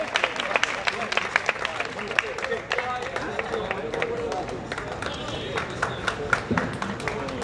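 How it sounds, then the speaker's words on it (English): Crowd applause and cheering at a college fest, with sharp claps, whoops and murmuring voices mixed in, fairly close and uneven in intensity across the stretch. "A big round of applause"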